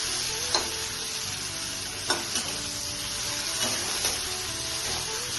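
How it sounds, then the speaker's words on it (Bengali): Prawns fry in oil in a wok for a Bengali dheki shak prawn curry, giving a steady loud sizzle broken by a few sharp clinks of a utensil stirring and scraping against the metal. "আমার চিংড়ি মাছগুলি ফ্রাই হয়ে গেছে, আমি তুলে নিচ্ছি"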